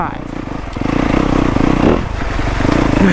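A dirt bike engine revs loudly and close, a rough throbbing drone that rises and falls, with mechanical clatter and voices mixed in.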